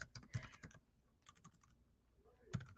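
Quiet clicking of typing on a computer keyboard, two short bursts of keystrokes separated by a brief lull, close and faint.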